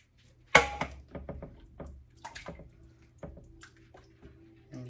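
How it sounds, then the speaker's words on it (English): A can of water poured into a pot of homemade chili: one sudden splashy gush, then a scatter of soft drips and small sloshes in a quiet kitchen. "So I'm going to add 1 more can of water."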